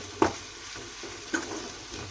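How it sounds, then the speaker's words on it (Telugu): Tender tamarind leaves and onion curry frying in a pan, a quiet sizzle with two distinct knocks of a spoon against the pan, one early and one past midway. "చూడండి, ఇది కొద్దిగా సేపు వేగిద్దాము."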